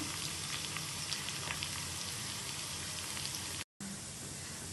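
Coriander frying on low gas for garlic chutney, a steady soft sizzle and crackle that continues evenly throughout, close and quiet, with a brief dropout near the end.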